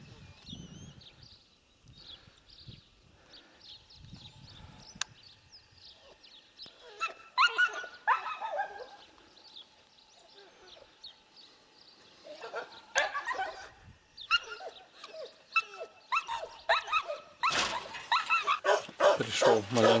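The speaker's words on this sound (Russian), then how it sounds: "Пришел маленько заснять еще щеняток." Laika puppies yip, whimper and bark in scattered bursts close by, growing busier and louder toward the end over a quiet outdoor background.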